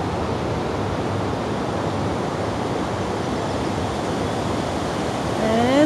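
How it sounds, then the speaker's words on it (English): Steady, loud broadband roar of a waterfall and river rushing near a house, continuous throughout with no break and a slight swell at the very end. "the waterfall and river by our house"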